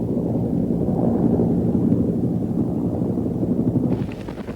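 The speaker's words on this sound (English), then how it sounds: "to film a Cobra in operation." A Cobra attack helicopter runs at an Army base, a steady low rotor drone with thudding pulses, fairly close and continuous, easing slightly near the end.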